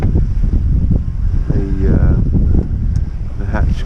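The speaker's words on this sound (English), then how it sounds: "it's a near gale with occasional gusts" Near-gale wind roars and buffets the microphone steadily aboard a small boat at sea, with waves sloshing and a brief whistling tone partway through.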